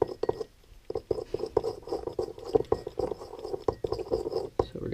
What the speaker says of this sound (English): So we're going to stir it up.